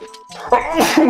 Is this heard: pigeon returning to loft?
no